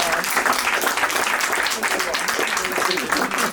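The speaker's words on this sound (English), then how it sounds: "Please give a round of applause for Michelle." Audience applause for a guest at a talk, a dense, steady wash of clapping from a crowd that holds evenly for the full few seconds.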